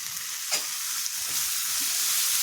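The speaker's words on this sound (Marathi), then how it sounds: "आता आपण टाकणार आहोत बारीक चॉप करून घेतलेली पत्ताकोबी" Finely chopped cabbage tossed into a hot pan over a spiced paste, sizzling continuously with a few stirring scrapes, close and fairly quiet.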